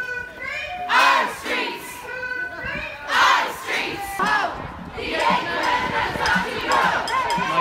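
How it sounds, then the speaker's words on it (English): Mostly young women in a protest march crowd through Dublin for International Women's Day chant and shout together in loud, rising waves of voices, surging and falling repeatedly at close range. "The crowd of mostly young women were giving it socks, a lot more energy than your standard Dublin march."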